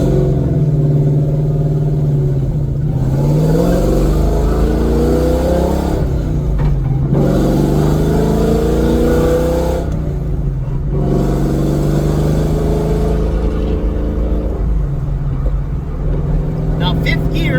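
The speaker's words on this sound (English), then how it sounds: "So I'm at a light, it's in first gear, so I'm gonna take off" A manual-transmission car with race parts pulls away from a stop in first gear, its engine droning loud and close, rising in pitch through each gear and dropping at every shift, with brief dips between gears.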